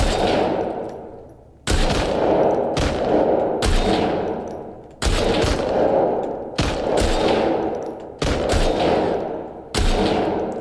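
Repeated loud gunshots and rapid bursts in The Last of Us Part 2 shooting range contest, firing in sharp volleys roughly every second or two, each decaying with a metallic ring, with no talking.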